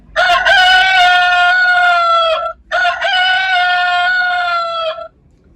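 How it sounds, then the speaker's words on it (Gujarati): A children's talking toy plays a recorded rooster crowing twice in a row. Each crow is loud, close and drawn out, with a brief gap between them. "હવે કુકડો. કુકડો કહેવાય ને,"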